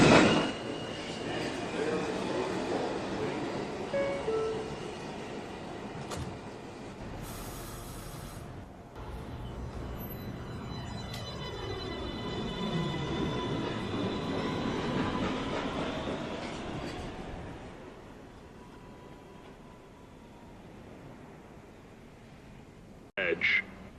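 A New York City subway 1 train at Lincoln Center station rumbles and clatters along the tracks, with rising and falling motor whine and squealing wheels, loud and sustained, ending with a short burst of noise.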